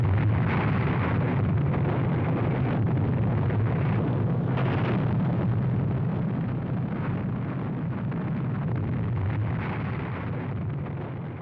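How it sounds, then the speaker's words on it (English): The Fat Man plutonium atomic bomb exploding over the military port of Nagasaki makes a deep, continuous roaring rumble that stays heavy and steady from start to finish. "Fat Man was dropped on the major military port of Nagasaki. The plutonium bomb was even more powerful."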